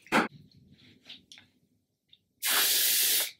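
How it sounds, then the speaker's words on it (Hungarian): A short puff and then a sustained, loud hiss of face setting spray from a makeup bottle, close up, with faint quiet handling noises between the two bursts. "ez nem dezodor, hanem egy arcfixáló spray"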